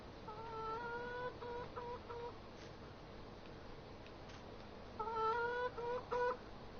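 Chickens in a six-bird chicken hut in Farming Simulator 19 give two short bursts of rhythmic clucking calls, faint and fairly close, separated by a quieter stretch of low ambient noise.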